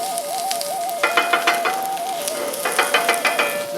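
Sausage and zucchini sizzle steadily in a pan, a close bright frying hiss with clusters of quick spatula scrapes and taps, a faint tonal hum running underneath, and no speech.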